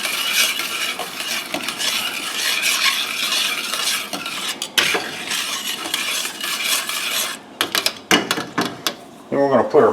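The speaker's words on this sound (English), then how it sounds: "Give this a little stir." A spoon stirring red sauce with thyme in a pot, steady close scraping and clinking against the pot over a low sizzle, with a few sharper metallic knocks near the end.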